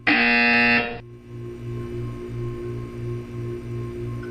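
A loud, steady electronic buzzer from the Portal 2 video game sounds alone for about a second, then cuts off, leaving a faint rhythmic low hum.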